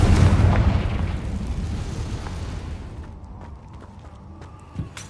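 Confringo spell explosion in Hogwarts Legacy: a loud, deep blast at the start that rumbles and fades over several seconds, followed by a small pop near the end.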